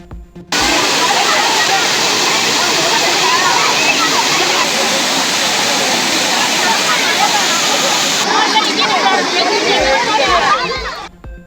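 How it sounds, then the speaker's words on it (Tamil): Kumbakkarai waterfall near Periyakulam in Theni district, a loud, continuous roar of falling water close by, with a faint babble of crowds of tourists bathing beneath it. "தேனி மாவட்டம் பெரியகுளம் அருகே கும்பக்கரை அருவியில் குவிந்த சுற்றுலா பயணிகள்."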